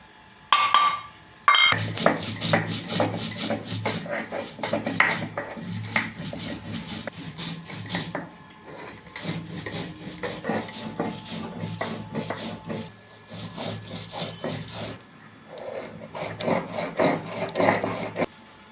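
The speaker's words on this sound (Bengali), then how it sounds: "এখানে আমি নিয়ে নিয়েছি পোস্ত রাঁধুনি সাদা সর্ষে কালো সর্ষে অল্প আদা এটা আমি বেটে নেবো শিলেতে" Poppy seeds, radhuni, white and black mustard seeds and a little ginger ground by hand on a flat grinding stone (shil): steady, rhythmic gritty scraping strokes, close and fairly loud, with a few brief pauses.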